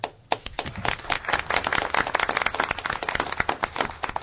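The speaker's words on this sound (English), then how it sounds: "I'm not sure if an applause is in order." Audience at a public works meeting breaking into applause, dense overlapping claps sustained for about four seconds at moderate distance, with a sharp clap near the start.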